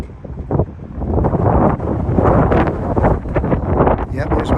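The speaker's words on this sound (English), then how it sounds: "Yep, there's wind out here." Strong wind buffets the microphone outdoors beside a railway line, a loud, continuous low roar with gusty swells throughout, with some voice-like sound mixed in.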